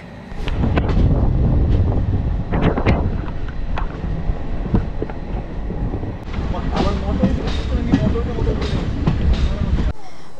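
Amaravati Express pulling into Castle Rock station on the Karnataka–Goa border, heard as a loud, steady rolling rumble with wind buffeting and scattered clanks, easing toward the end; a voice speaks partway through.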